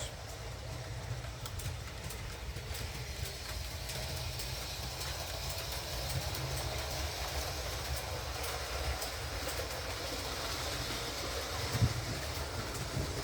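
A Tri-ang Big Big O-scale model train hums and rattles steadily along its track, a quiet continuous clatter with a faint click near the end.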